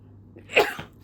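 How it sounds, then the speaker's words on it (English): A single sharp sneeze bursts out close by, quick and forceful, then fades into quiet. "I'm gonna sneeze."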